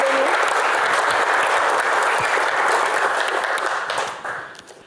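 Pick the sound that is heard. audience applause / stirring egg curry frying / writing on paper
audience applause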